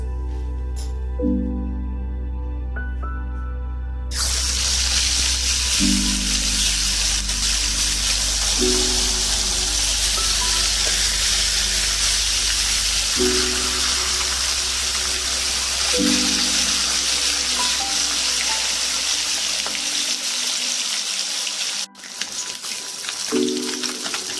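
Catla fish pieces fry in hot oil with a dense, rain-like spattering sizzle that rises sharply after a quieter opening and holds steady, alongside faint low tonal hum, no speech.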